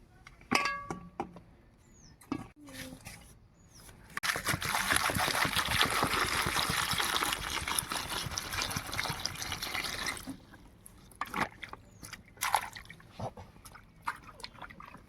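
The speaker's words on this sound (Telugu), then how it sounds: "ఈ టమాటాలను అయితే ఫస్ట్ ఫ్రెష్గా అయితే కడుక్కుంటాను" Fresh tomatoes are rinsed in water, with a steady splashing rush of running water for several seconds, framed by scattered drips, clinks and small knocks of the tomatoes in a container, all close by.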